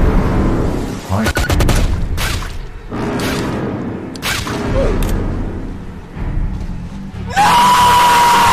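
Gunfire in the Roblox game Isle, bursts of shots and sharp cracks scattered through a busy mix of game sounds, closing on a sustained tone.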